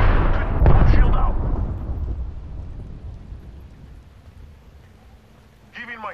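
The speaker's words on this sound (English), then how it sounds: "Incoming grenade!" A grenade explosion in the video game Apex Legends: a loud, close blast with a heavy rumbling tail that slowly fades over several seconds, then a voice briefly at the end.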